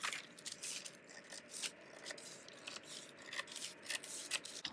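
Scissors snip through a paper jeans pattern in a quick series of close, crisp cuts, with soft paper rustling between strokes and no voices.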